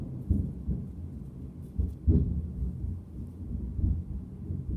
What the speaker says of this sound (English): I'm in a thunderstorm right now.